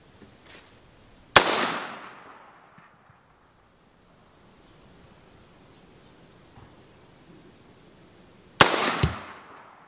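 A Ruger American rifle fires two sharp shots at the range, several seconds apart, each loud crack trailing off into a fading outdoor echo, with near silence between them and no talk.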